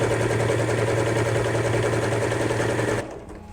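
A sewing machine backstitches a seam on an apron with a fast, steady mechanical whir and hum, close and loud, before stopping abruptly near the end.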